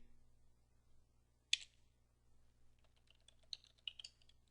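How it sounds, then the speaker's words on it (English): Faint keystrokes on a computer keyboard as a password is typed: one sharp isolated key click, a pause, then a quick irregular run of taps, all quiet against a low steady hum. "Type any password you like."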